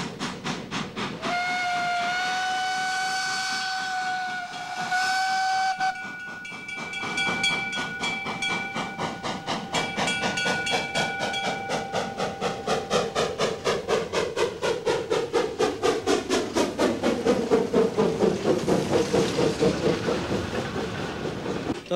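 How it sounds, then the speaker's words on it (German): A 1902 Esslingen steam railcar built for the Swiss Northeastern Railway sounds a loud whistle, then runs with steady rhythmic chuffing and hiss that builds as it approaches. "Das ist ein alter Dampftriebwagen,"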